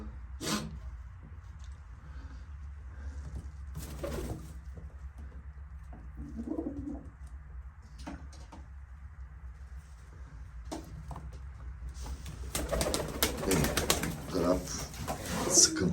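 Domestic pigeons coo in a coop on a snowy winter day, soft low calls scattered through the stretch over a steady low hum, growing busier and louder toward the end.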